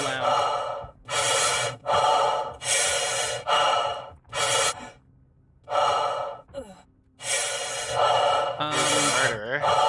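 A Star Citizen player character breathing heavily and loudly in repeated rhythmic gasps and exhales, each lasting about half a second, close and prominent with brief pauses between.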